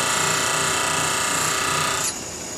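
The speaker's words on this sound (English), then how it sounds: "what I'm doing now is grinding until I see sparks coming off the tip" A high-speed steel lathe threading tool is ground on a bench grinder, giving a loud continuous whine that drops off sharply near the end as the grinding stops.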